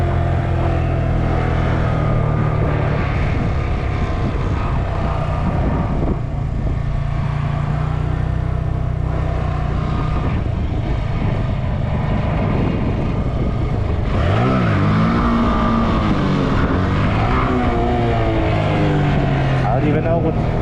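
A motorcycle engine drones and revs repeatedly during wheelie practice, rising and falling in pitch. It sounds close and loud, with wind noise and someone talking over it.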